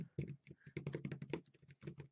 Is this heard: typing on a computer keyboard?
yes